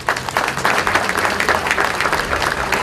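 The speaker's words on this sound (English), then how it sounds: "Can you give them a round of applause?" An outdoor crowd at a flag raising festivity applauds young adults, a loud, dense and steady burst of clapping with no break.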